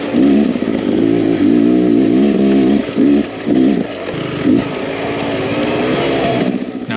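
A Beta Xtrainer 300 dirt bike, being broken in at a tight, technical riding park, revs hard and loud up close, its engine note rising and dipping in rapid surges with brief throttle-offs before settling into a steady drone.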